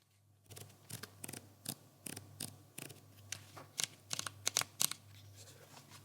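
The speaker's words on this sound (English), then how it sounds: "Alright, now let's listen to X-T5 dials." Fujifilm X-T5 camera dials being turned, giving a series of crisp mechanical clicks heard very close, irregular at first and then faster clusters of detents, alone with no talking.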